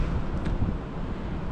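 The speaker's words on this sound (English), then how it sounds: "very windy today" Low, continuous wind rumble against the microphone, fairly even throughout with a brief faint rustle early on.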